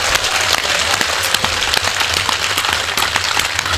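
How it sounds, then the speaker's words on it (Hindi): A whole assembly hall breaks into thunderous applause, a dense, continuous roar of many hands clapping at full strength without letting up, with a low hum underneath. "एक बार पूरा सदन हाथ उठाकर जोरदार तालियां बजाए"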